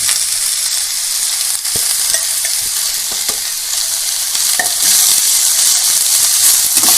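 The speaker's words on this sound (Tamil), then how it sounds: "நல்லா வதக்கிக்கிங்க" Poori masala with fennel powder is sautéed in a pan, giving a loud, continuous sizzle with frequent scraping and stirring clicks throughout.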